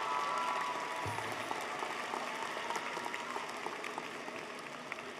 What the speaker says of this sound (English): Let's applaud our College of Engineering and Information Technology graduates.